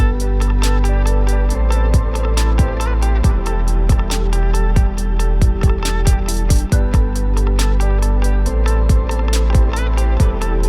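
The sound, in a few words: guitar variation in an electronic music track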